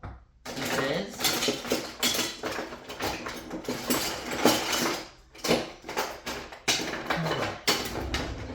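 A spatula scrapes a mint Oreo chocolate mixture out of a bowl, with repeated close scraping strokes and clinks of utensil against the bowl in uneven bursts separated by short pauses.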